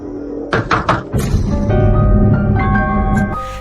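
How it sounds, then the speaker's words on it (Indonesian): Knocks land on a bedroom door in a dormitory, a few quick hollow raps near the start, followed by a sustained tonal musical bed. "Para geng pembuli datang mengetuk pintu kamarnya"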